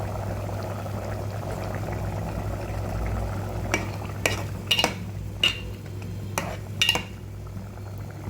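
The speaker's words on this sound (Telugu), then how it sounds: "చూసారా, చక్కగా ఉడుకుతుంది కదా" Prawn curry with water simmering in a pot, a soft steady bubbling bed with occasional metallic clinks of a utensil against the pan, close and moderately quiet, no talking.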